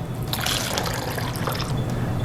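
A can of water pours steadily into an Instant Pot over tomatoes and sauce, a continuous close splashing trickle with no talking.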